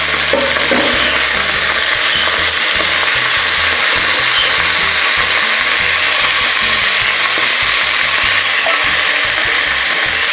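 Spinach frying with garlic in a pan over a high flame, a loud, steady, close sizzle running throughout with scraping stir noises and no talking.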